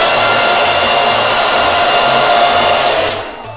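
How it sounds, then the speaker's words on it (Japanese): Hair dryer blows loudly and continuously at close range, a steady roaring airflow that drops off sharply near the end. "とりあえずドライヤーして"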